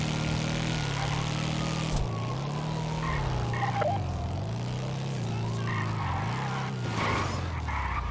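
A motorcycle engine in GTA V revs loudly and continuously, its pitch rising and falling in repeated waves as it accelerates and shifts, close and steady throughout with no talk.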